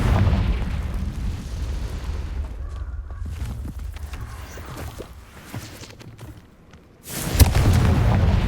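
Fiery blasting-spell explosion in the Hogwarts Legacy video game, a heavy booming burst with rumbling low end that fades, then a second loud blast erupts near the end.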